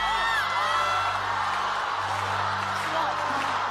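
A studio audience at The X Factor Australia shouts and whoops loudly and continuously, a dense wall of raised voices yelling together in a large hall.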